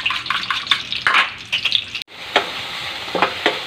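Garlic, onion and ground chicken breast sizzle and hiss in a hot pan, with close stirring scrapes and a brief break in the frying noise partway through; no one talks.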